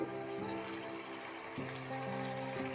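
Steady soft sizzling of poppy seed paste frying in a pan, a continuous gentle crackle with a brief sharp click partway through.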